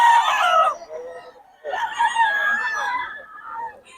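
A bullstag rooster crows twice at a gamefowl market in Bocaue, two loud, close calls split by a short pause, with a faint clucky tail at the end.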